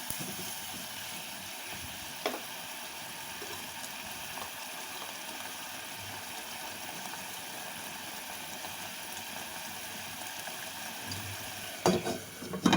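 Prawns simmer in a coconut and curd gravy in a covered pan, giving a steady, soft bubbling hiss throughout with a few faint clatters near the end and no talk.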